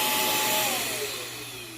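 Cooling fans for air intake and exhaust run steadily on a Limitless Max 4 Combo build, giving a loud, close broadband whoosh with a faint falling whine that slowly drops in level.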